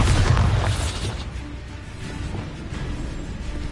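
A Bombarda spell explosion in the Hogwarts Legacy video game, a loud booming blast at the start that rumbles and decays into a lingering low roar with scattered crackle.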